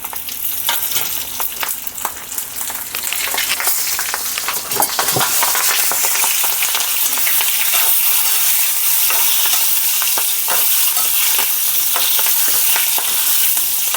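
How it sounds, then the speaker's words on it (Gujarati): Mustard seeds, asafoetida and green chillies sizzling and spluttering in hot oil, a loud, continuous close-up frying hiss with crackling pops, no talking. "તેલ આપણે આવી ગયું છે, હું રાઈ નાખું છું. હિંગ નાખી દો. હવે મરચાં નાખી દો."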